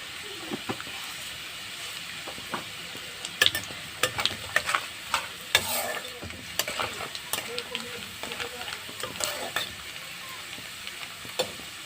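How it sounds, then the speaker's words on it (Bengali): Dried red chilies, garlic and nigella seeds fry in hot oil, with a continuous sizzle and frequent spoon scrapes and clicks against the pan throughout. "প্রথমে শুকনো লঙ্কাটা ভেজে নেব। এমনি রসুনগুলো দিয়ে দিচ্ছি, একটু কালো জিরেও দিয়ে দিচ্ছি।"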